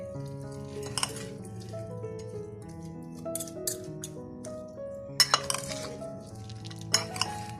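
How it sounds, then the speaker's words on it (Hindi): Spoon clinking and scraping in a bowl while lemon pickle ingredients with vinegar are mixed, a series of faint, irregular taps and clinks over a soft background, with no talking. "सब चीजों को मैं अच्छे से मिक्स कर दूंगी। मैं इसको अच्छी तरह मिक्स कर दूंगी।"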